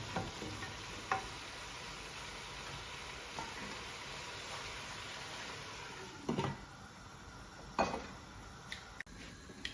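Prawns sautéing in a pan for prawn biryani, a soft steady sizzle with light stirring and a few clinks of a utensil against the pan, no voices.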